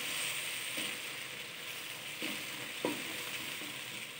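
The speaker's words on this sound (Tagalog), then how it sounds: "igisa natin para hindi malansa yung bagoong" Shrimp paste (bagoong) being sautéed in a pan for a mung bean dish sizzles quietly and steadily, with a few soft scrapes and taps of a utensil stirring it.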